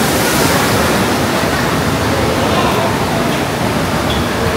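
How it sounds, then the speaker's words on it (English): The Canyon Flume water ride at Gillian's Wonderland Pier rushes loudly, a close, dense wash of splashing, churning water that holds steady throughout with no clear voices. "we're gonna do the Canyon Flume ride"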